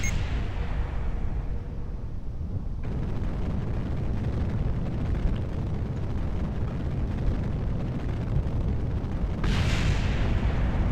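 A rocket engine in the video game Kerbal Space Program gives a loud, continuous roaring thrust with no letup, its tone shifting slightly partway through.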